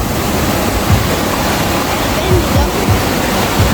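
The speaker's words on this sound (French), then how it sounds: "alors voilà, la cascade elle est magnifique" Waterfall on a cyclone-flooded river on Réunion island, a steady broadband roar of rushing water filling the scene, loud and continuous with faint wind noise and a few low thumps.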